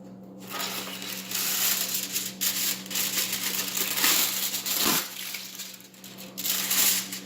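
Aluminum foil crinkles and crushes as a sheet is pulled open from the roll to cover a meatloaf, a steady close crackling rustle running several seconds alone, with a steady low hum underneath.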